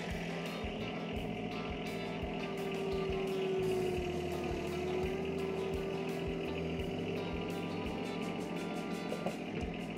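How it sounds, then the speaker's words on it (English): A John Deere tractor in four-wheel drive and low gear idles steadily, backing off a 54-inch mower deck, with a constant low engine drone and a faint whining tone, close and even throughout. "I'm going to make sure that my tractor is in 4-wheel drive and in low gear, and I'm going to drive backwards off of this deck."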